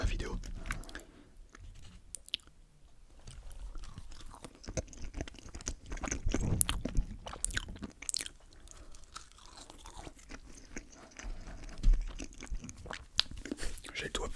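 Close, wet chewing and crunching of big tacos, with irregular bites and mouth sounds spread across the stretch, some louder crunches near the middle and end, under occasional soft murmured talk.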